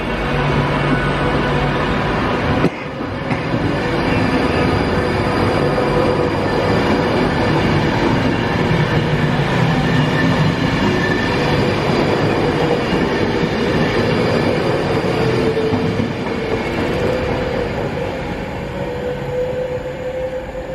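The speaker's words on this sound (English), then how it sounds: "This is an Avanti Pendolino. going to London Euston." Avanti Pendolino train bound for London Euston passing close by near Rugeley, a loud continuous rushing roar of wheels and rails with rising whine, sustained for about twenty seconds with no talking.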